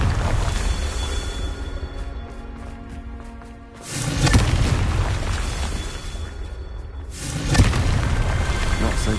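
Confringo blasting spells cast in Hogwarts Legacy, with heavy booming explosions landing one after another over a dense layer of game noise and music, a deep rumbling blast roughly every few seconds.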